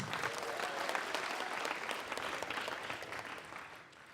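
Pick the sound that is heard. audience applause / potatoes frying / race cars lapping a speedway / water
audience applause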